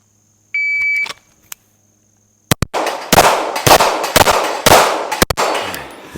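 A brand-new MPA DS9 Hybrid pistol fires a slow string of shots, several sharp, loud cracks spaced roughly half a second apart with brief ringing between them, after a faint electronic beep starts the run.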